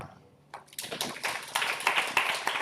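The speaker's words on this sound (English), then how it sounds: "Give Simon a clap." Applause at a university matriculation and orientation event starts sparse, then builds into steady clapping from an audience at a moderate distance.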